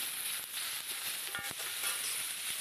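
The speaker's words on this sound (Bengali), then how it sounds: "দেখো ভালো করে নেড়ে নিতে হবে এইভাবে।" Chili pickle with yogurt sizzles steadily in a pan, a constant hissing fry broken by a couple of soft knocks from stirring, with no talk over it.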